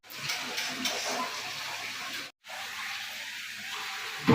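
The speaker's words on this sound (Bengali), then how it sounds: "এতগুলো বাসন নিয়ে রয়েছে, এগুলো পরিষ্কার করে নিই" Running tap water splashes over dishes being washed by hand in a home kitchen, a steady hissing rush that breaks off briefly for a moment and then resumes, with clinks near the end.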